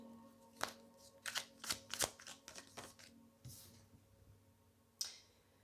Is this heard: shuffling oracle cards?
yes